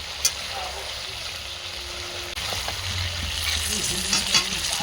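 Mutton curry masala with turmeric and chopped tomatoes sautéing in a pan, giving a loud, continuous close sizzle with intermittent scraping stirs and no talk.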